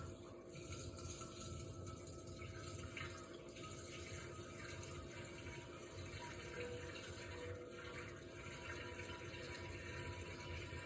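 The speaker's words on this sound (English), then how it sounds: "Just slowly start pouring it in here." Homemade wild berry wine pours slowly into a container with a continuous, quiet liquid trickle and splash that stays even and unbroken for about eleven seconds, with no talking.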